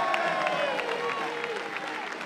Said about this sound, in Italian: E adesso un grande applauso, un boato per il capitano, il numero 8, Cristian Caccetta.